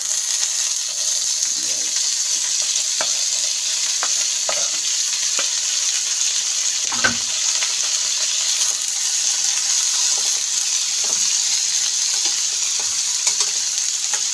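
Bitter gourd (ampalaya) sautés with tomato, onion and garlic in a pan. A loud, dense, constant sizzle carries faint scrapes and taps of the stirring utensil throughout. There is no talk.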